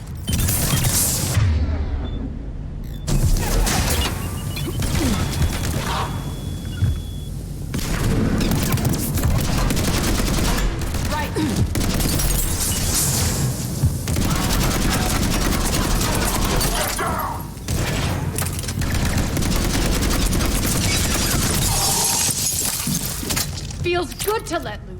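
Gunfire in Mass Effect 3 roars continuously through a dense, loud battle mix with shattering impacts and booms, and voices speak over the din.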